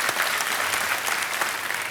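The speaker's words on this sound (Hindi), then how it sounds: "तालियों के साथ इनका स्वागत आज के कार्यक्रम में" Studio audience applause on Kaun Banega Crorepati welcoming a contestant: a brief, dense wash of steady clapping from a large crowd, even and moderately loud, with no speech over it.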